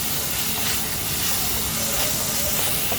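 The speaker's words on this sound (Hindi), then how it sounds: "अदरक लहसुन का कच्चापन जाने तक इसको भूनेंगे।" Ginger garlic paste fries in a pan with onions for mutton keema, giving a dense, continuous loud hiss of sizzling oil that stays even throughout, with no talking.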